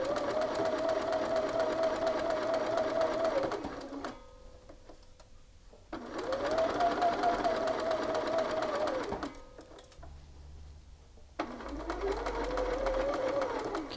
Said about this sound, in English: I do want to back tack here. And I want to keep this taut as I sew.